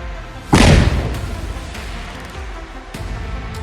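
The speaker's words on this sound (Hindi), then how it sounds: "बम को कंट्रोल एक्सप्लोजन के साथ डिफ्यूज किया गया" A single loud, deep boom of a controlled bomb explosion destroying a house in Jammu and Kashmir bursts out suddenly, then a long rumbling roar and debris noise slowly fade.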